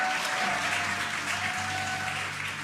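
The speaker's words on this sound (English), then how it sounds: "You can hear the crowd here." Crowd watching the Dragon Freedom capsule's splashdown return from the International Space Station, a dense roar of applause and cheering that stays constant, with a faint steady tone running beneath it.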